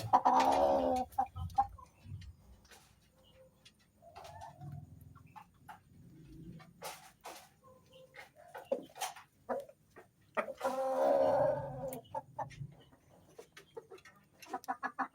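Rhode Island chickens kept as egg producers cluck and call close by, with several drawn-out vocal bursts and scattered shorter clucks over quiet farmyard background.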